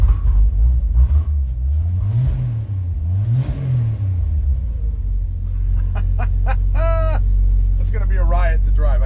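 A 1963 Chevrolet C10 truck engine fires up and runs with a deep, loud, rough rumble that rises and falls with revving, close by, with a voice talking over it near the end.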